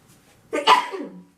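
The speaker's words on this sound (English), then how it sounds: "I sneeze more in the winter" One sharp, explosive sneeze bursts out after a moment of near silence, then trails off into a softer exhale.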